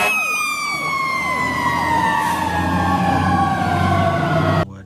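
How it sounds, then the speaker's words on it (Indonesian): Toy fire truck siren wailing loudly and close, a continuous electronic tone sweeping steadily downward in pitch for several seconds before stopping abruptly. "Oh, ternyata mobil damkar ini."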